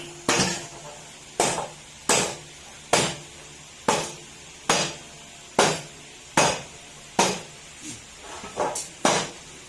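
Crankcase bolts come out of a Honda ADV150 engine during an overhaul, heard as a regular series of about a dozen sharp metallic clicks or taps, evenly spaced and close, with no talking.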